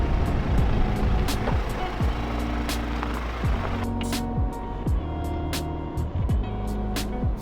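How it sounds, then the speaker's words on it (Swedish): A Toyota Land Cruiser 250 in crawl mode creeps down a steep 30-degree slope, its engine droning low under repeated rising mechanical whines and soft clicks from the automated braking, continuous and close. "Nu kör vi faktiskt ner för den här branta backen, 30 graders vinkel"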